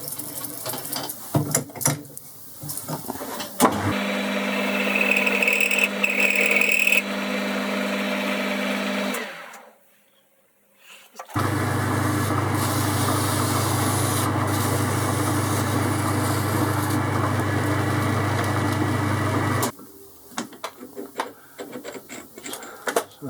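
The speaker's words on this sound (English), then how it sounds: "Just break the corner, take the sharp edge off it." A metal lathe chamfers the sharp edge of a part for a headstock handle on an expanding mandrel. After a few clicks and clatters come a long, steady machine drone, a brief stop, then another sustained run before more mechanical rattling.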